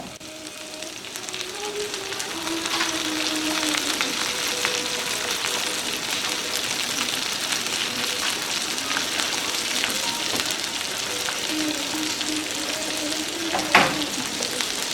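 Tomatoes soften in a pan with garlic for a daal tarka, giving a steady, even sizzle throughout with occasional stirring and a brief clink near the end.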